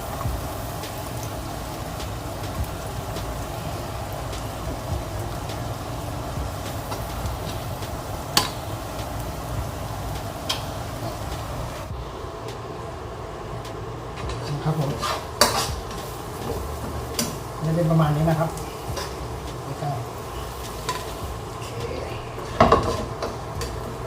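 Dried chilies are stirred and dry-roasted in a pan. A utensil scrapes and clatters against the metal again and again over a soft, steady sizzle, with louder knocks now and then.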